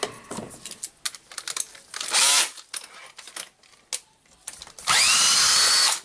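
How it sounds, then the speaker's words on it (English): Power drill removing screws from the housing of a Hilti TE905-AVR breaker during disassembly, heard as several short whirring bursts separated by clicks and handling noise, with two longer sustained runs near the middle and end. "I will try to do that with a drill, but I think the drill will not take the screws now."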